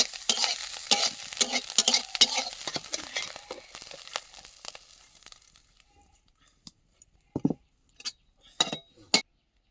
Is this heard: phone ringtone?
no